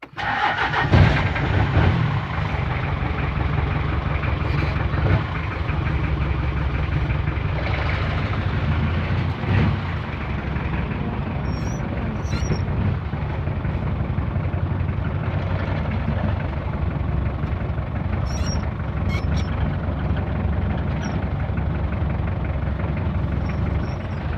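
A car engine cranks and catches, then settles into a steady, loud idle that runs continuously with a low, even rumble and no talking.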